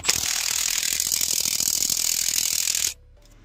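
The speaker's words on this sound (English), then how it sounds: "Let's get these bolts out." A hand ratchet undoes 13 mm bolts on the fuel rail of a DAF CF truck engine, a close, fast, continuous run of metallic clicks lasting about three seconds before stopping abruptly, with no talk.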